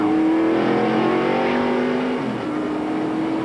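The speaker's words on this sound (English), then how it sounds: "here's from Derek Cope's car, or rather Jeremy Mayfield's car" Jeremy Mayfield's NASCAR Winston Cup race car at Rockingham in 1994, its engine howling loud and close with a steady high drone that dips in pitch near the end, heard alone.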